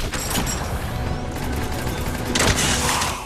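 Gunshots from a weapon in the video game Mass Effect 3 sound over a dense, continuous bed of game noise and rumble, with one louder burst of fire near the end.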